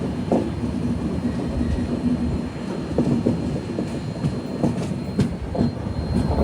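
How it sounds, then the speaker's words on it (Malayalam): Humsafar Express train rolling along rails on a sharp curve approaching Karimganj Junction, a steady loud rumble with rhythmic wheel clatter and occasional squeal throughout. "ട്രെയിൻ ഇപ്പോൾ കരിംഗഞ്ചിലേക്ക് എത്തുകയാണ്."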